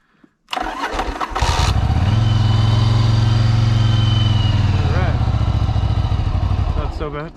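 A 1988 Yamaha Virago 750 motorcycle fires up on choke and settles into a loud, steady, close-up idle with a rhythmic low thump, a brief clatter at the start and a short flutter near the end; no talk.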